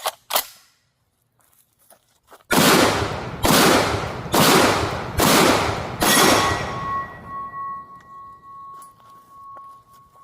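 Five loud, evenly spaced 12 gauge shotgun blasts from a Rock Island Armory VRF14 firing double-aught buckshot, each booming sharply, followed by a ringing steel plate target and some quieter handling clicks beforehand.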